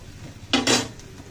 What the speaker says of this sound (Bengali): এখন এভাবে একটু ম্যাশ করে দিচ্ছি